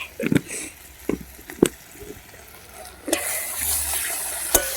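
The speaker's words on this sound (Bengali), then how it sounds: "এবারে ডালটা যে ধুয়ে রেখেছিলাম ওইটা দিয়ে দেবো। এই দেখুন ডাল দিয়ে দিয়েছি" Washed masoor lentils go into a cooking pan with a wet splashing patter and brief sizzle, followed by a steady watery hiss, moderately close and without talk.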